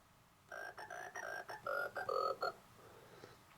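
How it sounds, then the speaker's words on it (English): Frog sound effect from a Winfun Maestro toy piano: a series of about eight short electronic croaks in a quick, steady rhythm, close and clear, ending after a couple of seconds of quiet. "If I hit it again, now it's a frog."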